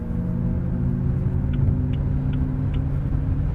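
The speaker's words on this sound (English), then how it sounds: "they nailed the motor sound too, it's not annoying at all" Electric motor of a Xiaomi YU7 Max EV while driving, a steady low rumble and hum with faint periodic whirs, close and continuous with no talking.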